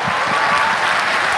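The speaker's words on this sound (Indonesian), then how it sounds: "Tepuk tangan dong untuk Unpad." A university audience gives a dense burst of applause, loud and continuous, at a student forum.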